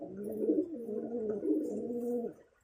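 A Girebaz pigeon coos in low, rolling throaty phrases, two or three repeated calls close by with no voices.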